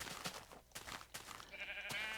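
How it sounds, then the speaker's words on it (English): Sheep in the video game Minecraft give a few short bleats, quiet and spaced out over a low game background with no speech. "I've got more sheep than I know what to do with."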